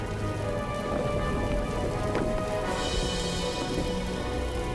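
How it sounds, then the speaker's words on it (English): A dense, steady shower of pattering and crackling impacts, like heavy hail falling, with a low rumbling underneath throughout. "Superheated rocks shower the valley in a burning hail."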